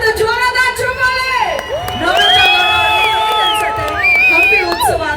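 Large crowd at the Hampi Utsav festival cheering, whooping and shouting continuously, a dense sustained roar with applause mixed in and voices rising above it.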